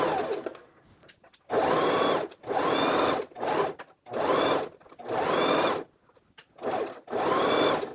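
A sewing machine stitches a curved skirt seam in several loud, close bursts of rapid whirring, each lasting about a second, separated by short pauses while the fabric is eased around.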